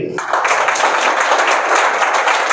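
A crowd claps together in sustained applause, many hands beating in a dense, steady patter that starts abruptly and carries on without pause.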